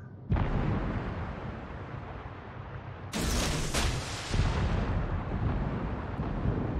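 Torpedo explosions boom in a space video game: a loud blast opens, then a second heavy burst with crackling follow-up impacts, the roar rumbling on continuously to the end.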